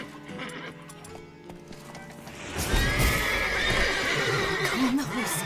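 In The Witcher 3, a herd of horses bursts into loud, drawn-out whinnies over a clatter of trotting hooves, starting quieter and swelling midway into a close, full commotion.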